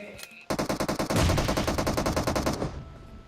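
Automatic gunfire in the mobile game PUBG Mobile, a loud, close rapid burst of rhythmic shots that runs nearly three seconds before cutting off.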